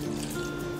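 Water poured into a rasam mixture of grated ginger, crushed pepper, cumin, turmeric and salt for lemon rasam, a close, steady trickle lasting under a second with a low hum underneath.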